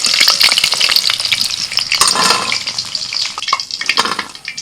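Chicken pieces sizzle loudly in a hot pan as they are stirred and fried, a dense continuous crackle with scraping strokes that eases off toward the end.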